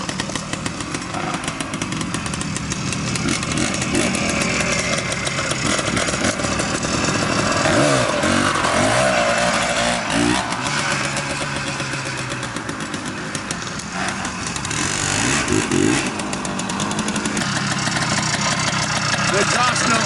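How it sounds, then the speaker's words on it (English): A 1971 Greeves Puch 169cc Pathfinder motorcycle runs with a loud, raspy two-stroke exhaust, holding a steady buzzing drone with a few swells in revs, heard up close throughout. "The exhaust note on this bike is music to my ears."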